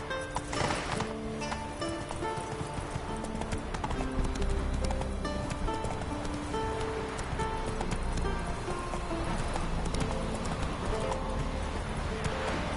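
Roach the horse's hooves clip-clop steadily along in The Witcher 3, a continuous even rhythm of hoofbeats with music or ambience underneath and a brief voice calling to the horse.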